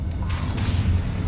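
A Depulso spell cast in the Hogwarts Legacy video game gives a brief, forceful whoosh with a soft boom over a low steady hum.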